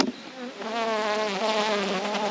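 Honey bees buzz from an opened hive during an October inspection, a dense, steady drone close up that carries on unbroken with no voices.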